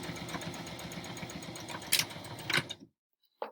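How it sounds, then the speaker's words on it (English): A sewing machine runs steadily, stitching both ends of a homemade surgical mask with a filter pocket and nose wire, with a couple of sharper clatters near the end before it stops, then a brief faint tap. "Go to your machine, line it up, make sure you're locking your stitches, and sew both ends all the way up to that little mark that you made"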